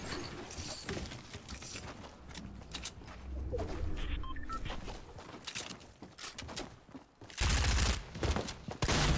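Fortnite gunfire crackles in loud bursts near the end, following a stretch of busy, cluttered in-game noise.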